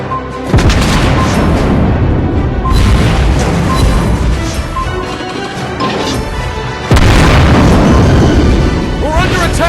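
Naval battle explosions in the game World of Warships Blitz, loud heavy booms and crashing blasts that keep rolling through the clip, with a fresh powerful burst late on.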